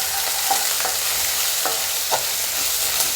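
Chopped small onions sizzle steadily in a frying pan as they are stirred, with a few soft scraping clicks from the spoon over the continuous hiss.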